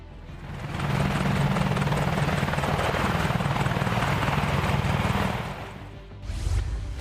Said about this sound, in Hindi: advance combat helicopter